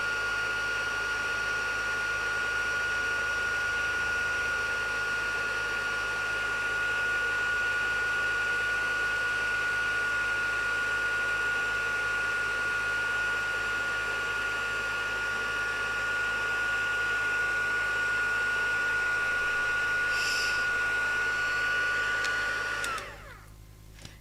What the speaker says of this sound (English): So let's heat emboss this one.